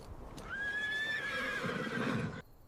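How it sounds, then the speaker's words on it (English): Horses on the plains neigh in one long, loud whinny with a rising, wavering pitch over a low rumble of movement, ending abruptly. "Troopers regroup, rifles lowered, horses calming, leaders confer quietly."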